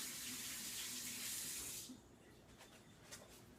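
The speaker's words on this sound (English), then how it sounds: "I'm going to rinse my hands again real quick." Running tap water splashes steadily over hands being rinsed in a kitchen, a loud broad hiss for about two seconds before the faucet shuts off, leaving quiet room tone with faint small clicks.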